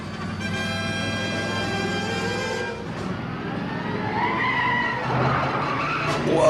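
Film car chase from the 1963 comedy It's a Mad Mad Mad Mad World on winding desert roads: a loud sustained siren-like tire screech sweeps and wavers, followed by rumbling engines and further skidding squeals close up.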